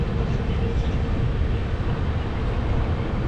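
Passenger train running near Farakka on a new service to Darjeeling: a loud, continuous low rumble and roar of wheels and carriage noise that holds steady throughout, heard from close by.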